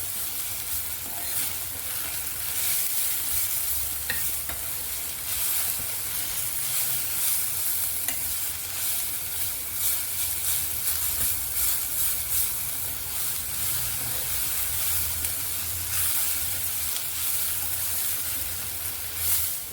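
Onion chutney ingredients with coriander leaves roasting in a pan on a stove, a steady broad sizzle with scraping stir sounds running throughout, close and even in loudness, with no talking.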